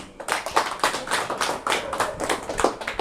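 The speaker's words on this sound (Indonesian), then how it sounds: "Tepuk tangan untuk kita semua." Hands clapping at a Garuda Nasionalis political gathering, a small group tapping out fairly close, uneven claps in quick irregular bursts.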